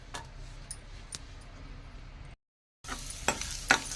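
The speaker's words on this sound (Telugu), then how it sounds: "మనం నెయ్యి వేసుకున్నాం కదండి, ఇప్పుడు కిస్మిస్ వేయించుకుందామండి." Raisins frying in hot ghee in a pan for dry fruit putnala laddu, a soft steady sizzle with occasional light stirring ticks and scrapes, close and quiet, broken by a brief silent gap.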